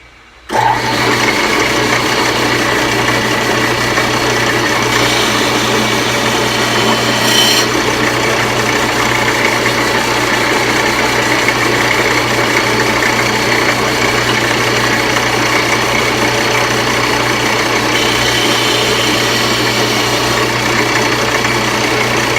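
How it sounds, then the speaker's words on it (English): A lathe or power tool spins up and runs loudly and steadily while a 30-calibre bolt action pen blank is sanded down to its brass barrel, a continuous high whine with slight shifts in tone. "So we're going to sand this down to the barrel."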